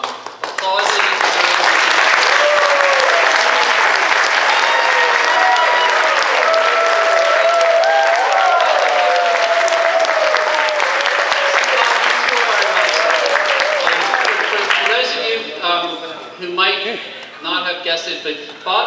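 Audience at a Naram awards ceremony applauding with sustained, loud, dense clapping that carries on for most of the clip, then thins into scattered claps near the end; talk is faintly mixed in.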